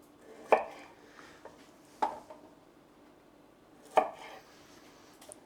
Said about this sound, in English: I'll just cut the end off, take off the loose leaves, then cut it in half